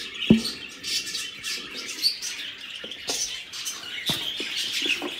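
Pet birds, a breeding pair with their first chick, chirping close by in short, sharp tweets and scattered calls with small rustles between them.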